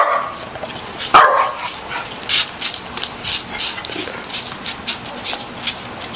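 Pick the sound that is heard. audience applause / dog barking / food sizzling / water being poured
dog barking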